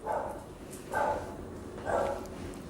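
Dogs bark in the distance, three faint, evenly spaced barks about a second apart under a steady background hum.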